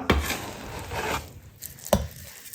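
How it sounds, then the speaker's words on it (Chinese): Knife mincing pork leg meat on a board, a few sharp thuds near the start and another firm chop toward the end, close and fairly loud. "这是2把手的切腿肉，剁成肉末"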